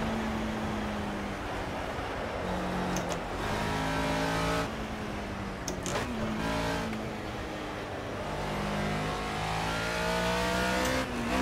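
Race car engine in the Project CARS racing game, droning steadily at high revs with rising and falling pitch through gear changes, loud and continuous with no talk.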